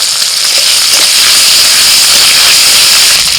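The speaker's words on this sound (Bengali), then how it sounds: "ফোড়নের মধ্যে দিচ্ছি তেজপাতা শুকনো লঙ্কা মেথি গোটা জিরে টমেটো কুঁচি এবার দিচ্ছি আদা বাটা" Ginger paste drops into a hot oil tempering of bay leaf, dried chilli, fenugreek, cumin and chopped tomato, producing a loud, dense, continuous sizzle that stays close and steady throughout with no talk.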